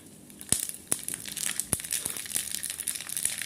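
Mustard seeds splutter in hot coconut oil in a pan, a steady close crackle of small pops with a few sharper, louder bursts scattered throughout.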